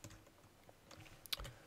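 Computer keyboard keys are pressed with a few faint, close clicks and one sharper tap near the end, quiet and sparse with no speech.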